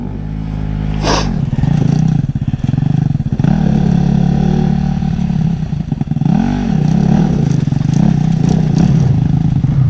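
A motorcycle engine revs loudly and close by on a rough mountain route in Sardinia, with repeated throttle blips, rising and falling pitch and some clattering.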